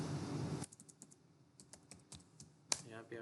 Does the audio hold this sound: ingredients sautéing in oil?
no